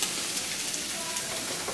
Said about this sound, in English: the peas have came to a boil